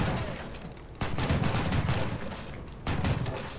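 Gepard anti-aircraft tank autocannons in War Thunder firing, a sustained dense roar of rapid rounds with two sharp bursts at one-second and near-three-second marks, loud and up close.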